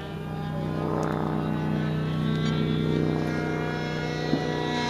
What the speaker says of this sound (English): that's an interesting outside loop with a float plane